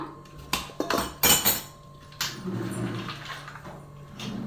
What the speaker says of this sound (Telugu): ఇప్పుడు కొబ్బరి వేస్తున్నాను.